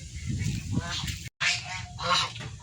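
Geese honk repeatedly and loudly at close range in a flock kept alongside ducks, with harsh nasal calls overlapping one another and a brief gap in the middle of the sequence.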